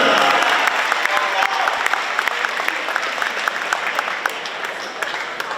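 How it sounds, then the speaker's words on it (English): A school rally crowd applauds an honored track athlete, sustained clapping with sharp individual claps spiking through a broad roar, gradually thinning toward the end, with announcer speech faintly mixed in. "Let's hear a round of applause for Jacob Stevens"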